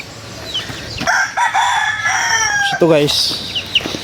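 Chickens and hens on a game farm, a rooster crowing loudly up close with clucking around it, while someone talks briefly over the birds.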